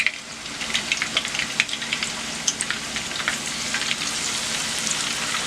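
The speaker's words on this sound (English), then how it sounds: "I'm waiting for it to heat up and we're going to put the salmon in." Skinless salmon fillets frying in hot olive oil over high heat give a loud, dense, continuous sizzle with crackling pops scattered throughout, steady and close with no voices.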